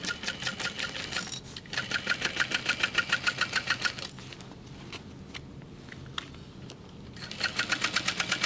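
A sewing machine stitching layered fabric on a bag pattern runs in rapid, even pulses, pauses briefly, then resumes; it is faint and close, with small handling taps during the pause.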